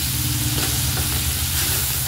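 Sauces stirred together in a hot pan for fried rice, a dense, loud, continuous sizzle and hiss with a low rumbling undertone and faint utensil movement, no talking.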